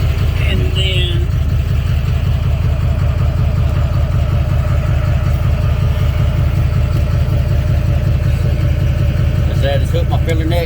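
An RV engine idles after a fuel tank install, a loud, close, steady low throb with an even rhythm, while a person talks over it.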